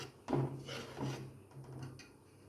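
A spoon stirs a thickening milk and sugar mixture in a pan over low flame, giving a few soft scraping rubs and light knocks, close and fairly quiet.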